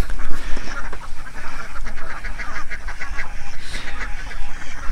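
A large flock of ducks at a duck egg farm quacks continuously and loudly, a dense overlapping chorus of honking calls filling the whole stretch.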